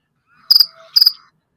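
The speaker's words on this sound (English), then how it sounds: "Man, that cricket sound like he's right up in the microphone." A cricket chirps loudly indoors, very close, giving two sharp trilled chirps in quick succession with silence between and around them.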